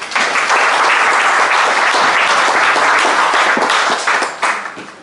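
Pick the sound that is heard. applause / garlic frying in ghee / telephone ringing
applause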